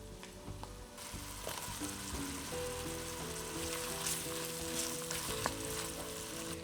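Onions and shallots sauté in a Dutch oven over medium heat, a steady close sizzle with light crackle running continuously, and a few soft clinks and scrapes of stirring over it.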